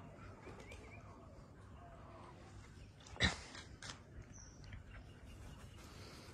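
Pigeons in a home loft with young birds, including a red-necked pigeon, give soft coos and calls over steady background noise, with one brief louder burst partway through.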